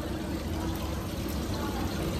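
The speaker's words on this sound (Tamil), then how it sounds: "தண்ணி வருது அருவி, மேல இருந்து கொட்டோ கொட்டும் கொட்டுது." A waterfall pours down from above in a steady, unbroken rush of water, loud and continuous throughout with no voices.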